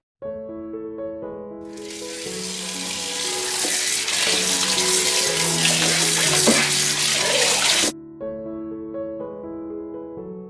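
Raw chicken is washed with turmeric powder and salt under running kitchen water. A strong, rushing splash of water starts after a moment and runs for several seconds, then cuts off abruptly, with background music throughout.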